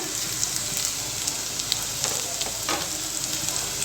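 Curry leaves crackle and sizzle in hot oil in a pan, a dense continuous spitting with faint popping bursts, close and moderately quiet with no voices.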